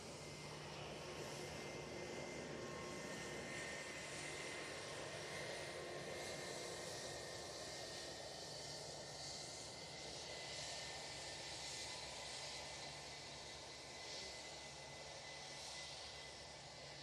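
A steady, faint jet engine drone from a Lufthansa airliner taxiing at Manchester Airport, a continuous distant whine and rumble with no voices.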